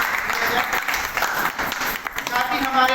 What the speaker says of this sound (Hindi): उनका भी मैं ताली से स्वागत करती हूँ